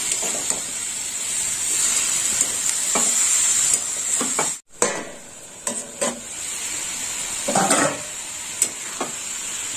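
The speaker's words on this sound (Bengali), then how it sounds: "আর লবণ দিয়ে এবার আরেকটু কষে নেব" Snake gourd being stir-fried with salt in a pan gives a loud, continuous sizzle with a steady hiss, scattered scraping stir strokes and a brief gap partway through, and no voices.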